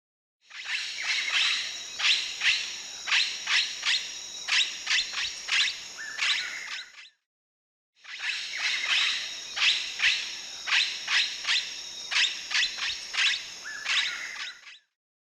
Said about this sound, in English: Blue-headed parrot.